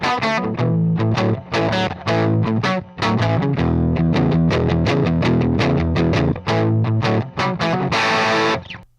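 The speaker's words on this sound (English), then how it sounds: "Now we have our Tweed classic rock tone." Electric guitar through a Fine Classics Vintage Vibe amp simulator set to a Tweed classic rock tone, playing a driven, crunchy riff of choppy chords and short pauses, loud and alone.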